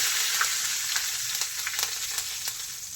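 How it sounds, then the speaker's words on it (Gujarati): Curry leaves hit hot tempering oil for Gujarati chevdo, giving a steady close crackling sizzle with small sharp pops scattered throughout, no voices. "એમાં આપણે વઘાડી એડ કરી દઈશું મીઠો લીમડો"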